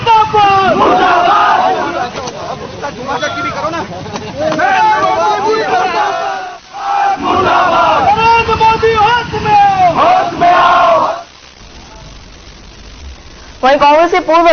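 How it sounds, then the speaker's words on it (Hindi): Youth Congress workers burning an effigy of the central government shout slogans against it in loud, rhythmic crowd chants, with brief pauses between bursts of massed voices. "सरकार के खिलाफ जमकर नारेबाजी भी की"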